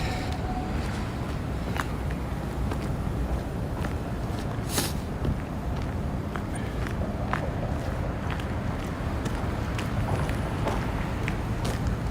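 Steady low wind buffeting an unshielded microphone outdoors in a freezing downtown Toronto street during a polar vortex, a continuous loud rumble with faint city noise and a brief higher hiss in the middle.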